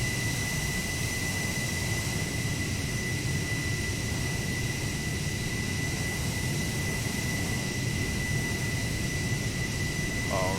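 Steady, loud whine and roar of an F-16 jet engine idling on the runway before takeoff in Microsoft Flight Simulator, a constant broadband rush with a high tonal hum, unchanging throughout.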